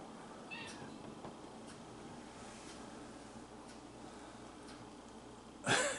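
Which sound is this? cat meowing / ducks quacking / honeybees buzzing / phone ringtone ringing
cat meowing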